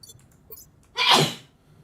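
A single loud sneeze bursts out close by, sharp and brief, with only faint background noise before and after.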